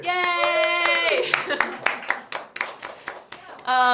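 A group at a robotics club balloon launch claps in a quick scattered burst, with sharp uneven hand strikes and voices cheering and calling out over and between the claps.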